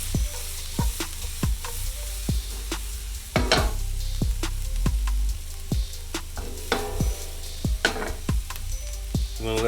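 Garlic and crushed chili flakes sizzle loudly in a hot pan with Brussels sprouts, broken by repeated scraping tosses and clatters of food shifting across the metal, close and continuous with no voices.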